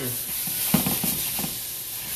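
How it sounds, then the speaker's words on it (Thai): Minced pork is stir-fried in a pan for a Thai glass-noodle salad, a soft steady sizzle with a few quick spatula scrapes and stirs in the middle, fairly faint and with no voices. "ผัดหมูสับให้สุกก่อนนะคะ"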